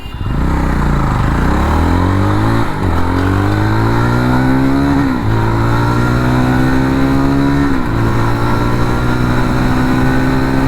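A JAWA 42 FJ 350 motorcycle blasts past at a signal junction, loud and close, revving hard through several gear changes with rising engine pitch, each shift marked by a brief dip before climbing again.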